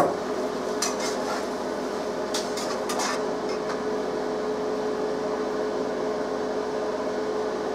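Strained noodles being stirred with tomato sauce in a pot, with a few light scrapes and utensil clinks early on over a steady kitchen hum that continues to the end.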